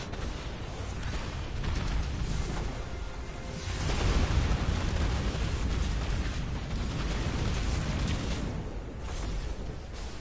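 Missile explosions in Destiny 2, a loud continuous roar of blasts and rumbling booms that swells midway and stays dense throughout, with no talking.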